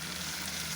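Fish sizzling in a frying pan for a fish curry, a short, continuous, dense hiss of frying oil heard up close at an even level, with a faint low hum beneath.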